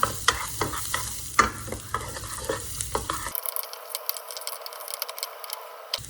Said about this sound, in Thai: เจียวให้กระเทียมมีกลิ่นหอมนะคะ